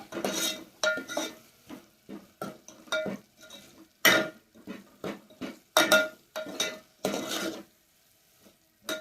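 A spoon scrapes and clanks against a pan while crushed green chillies and onion are stirred and lightly sizzle, giving irregular clusters of close metallic knocks separated by short pauses, with no talking.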